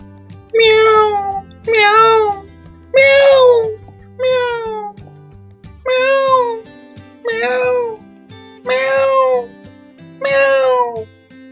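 A cat meows about eight times in a steady, evenly paced series of loud, close, drawn-out cries over faint low background music.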